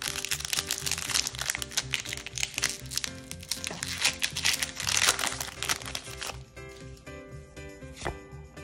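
A Pokémon Darkness Ablaze booster pack wrapper being torn open and handled, making busy crinkling and crackling close to the mic that thins into sparser rustles toward the end.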